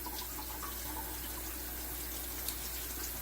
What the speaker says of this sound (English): So I've got to get some water, some warm water.